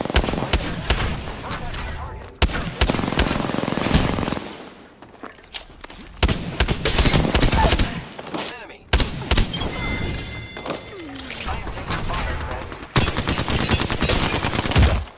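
Apex Legends gunfire, dense bursts of rapid automatic shots and heavy thuds in repeated volleys with brief lulls, loud and close, with game voice lines mixed in.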